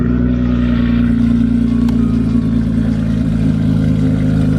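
A Nissan GT-R R35 engine at a GTR festival meet runs with a loud, deep, steady drone that rises slightly, close up and alone with no talk.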